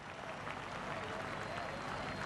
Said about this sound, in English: Listen to the crowd. They just got the view that he's okay.